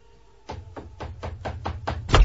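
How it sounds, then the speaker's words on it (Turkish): Knocking on a door, seven evenly spaced raps from close by with a final louder, heavier knock, with no voices over it. "Kapıyı çalar mısın?"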